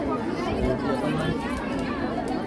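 A dense crowd at the Maa Bamleshwari temple on New Year, a steady wash of overlapping chatter and movement all around, loud and continuous without pause.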